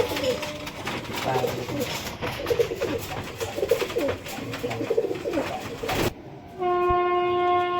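Pigeons, high-flying breeds, coo and flutter close by for several seconds, then a loud, sustained horn-like tone suddenly takes over.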